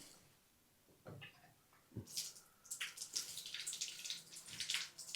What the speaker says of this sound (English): Now, let's go ahead and turn the water on.